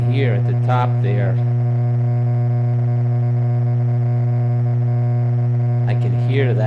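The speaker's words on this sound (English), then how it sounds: "I can hear that distortion in the background" A steady, buzzing synthesized sine tone with a gritty distorted edge hums continuously from a Haken Continuum, while a voice talks briefly at the beginning and end.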